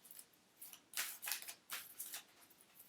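A deck of oracle cards is shuffled by hand in quick, faint papery riffles and flutters, several short bursts in a quiet room.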